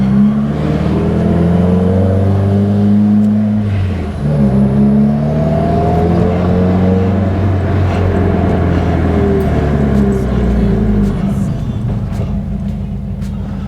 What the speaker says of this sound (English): Let me just ride it down the road here.